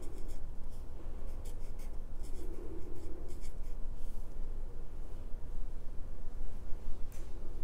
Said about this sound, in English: First, write your name at the bottom of your paper really neatly.